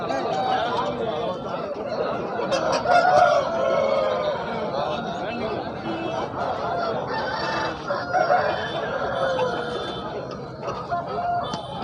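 Roosters crow again and again at a rooster market in Kavundapadi, with hens clucking and a crowd chattering throughout, the calls overlapping near and far.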